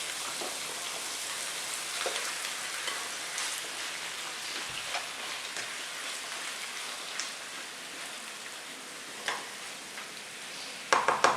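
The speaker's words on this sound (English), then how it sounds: "now you can hear it sizzling" Steady crackling sizzle of sausage frying in a hot pan, continuous and close, with a few sharper pops near the end.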